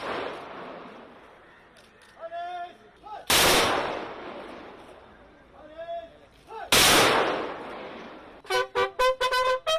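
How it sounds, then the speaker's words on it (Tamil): Police fire a gun salute at a Tamil film actor's funeral cremation: two sharp, loud volleys several seconds apart, with voices and crowd murmur between and after them. "அங்கு அவரது உடல் காவல்துறை மரியாதையுடன் துப்பாக்கி குண்டுகள் முழங்க தகனம் செய்யப்பட்டது"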